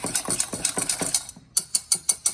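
A whisk working through honey spice cookie (melomakarona) batter in a bowl, quick rhythmic clicking strokes, then a brief pause and about five sharper, evenly spaced taps, close and clear.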